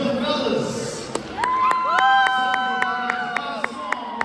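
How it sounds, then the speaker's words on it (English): A crowd at an anniversary gala cheers and applauds, with sharp claps and whoops over sustained tonal music close by, building across the moment. "give a round of applause to the fellas"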